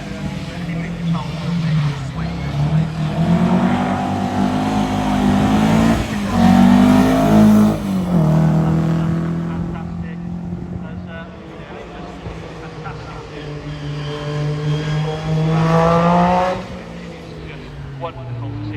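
A Lotus Sunbeam rally car drives at Prescott, its engine rising and falling through revs and gear changes, loud and close with a sustained roar, while a commentator talks over it.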